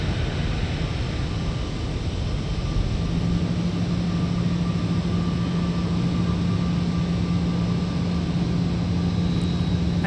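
Boeing 737 engines roaring in reverse thrust in a flight simulator, a steady loud broadband rush with a low drone that firms up a few seconds in and holds unbroken to the end, no talking.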